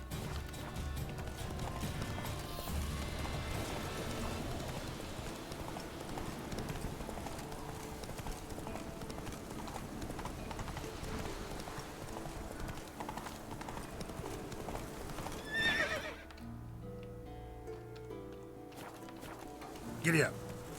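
Horse hooves clip-clop at a steady gallop in The Witcher 3, a continuous rhythmic patter under game music and talk, dropping away near the end.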